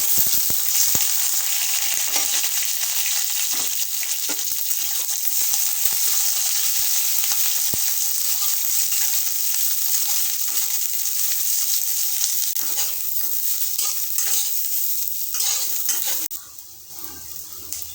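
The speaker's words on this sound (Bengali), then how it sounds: "তেলটা গরম হয়ে গেছে, বেগুনগুলো দিয়ে দিচ্ছি।" Eggplant pieces fry in hot mustard oil in a pan, giving a loud, steady, crackling sizzle that runs unbroken for a long stretch, then dips slightly at the end.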